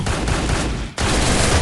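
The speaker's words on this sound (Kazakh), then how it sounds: "Әлі атыс отыр ғой, жігіттер." Dense, continuous gunfire from the Free Fire video game during a tournament match, loud and sustained with a brief dip near the middle before resuming at full intensity.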